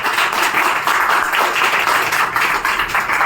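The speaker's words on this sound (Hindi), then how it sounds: "ताली बजा दीजिए।" Dense audience applause at a religious discourse on Lakshman's anger at Sita's swayamvar, many hands clapping loudly and steadily throughout with no voices over it.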